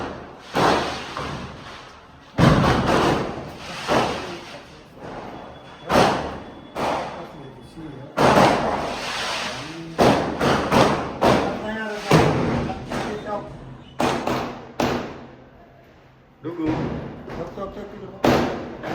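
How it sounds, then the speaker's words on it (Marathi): Diwali firecrackers bursting nearby in a string of loud sharp bangs and thuds, irregularly spaced with crackling tails, while people talk and a baby fusses between blasts. "चला फटाके वाजवायला."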